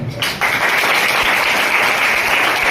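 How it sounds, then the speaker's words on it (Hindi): Audience at a Teachers' Day event bursts into loud, dense applause that starts sharply and stays steady to the end. "जोर से तालियां।"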